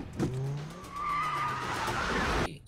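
A car brakes suddenly with a sharp, sustained tire skid and squeal lasting about two seconds, loud and close, then cutting off abruptly.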